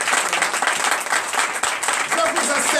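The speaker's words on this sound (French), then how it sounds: "Donnez l'acclamation à notre président." A church congregation at a Sunday service in Benin applauds loudly and continuously for the president, a dense, close burst of many hands clapping throughout.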